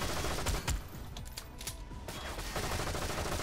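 Rapid bursts of gunfire rattle out in the Goldeneye: Source video game. The volleys are close and loud, with short pauses between them.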